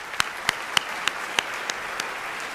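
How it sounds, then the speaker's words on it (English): Sparse, scattered claps at a 2019 Greenwich University convocation, about seven separate sharp hand claps spaced roughly every third of a second over a quiet hall background, fading slightly toward the end. "once again, a huge round of applause, Matthias Okere"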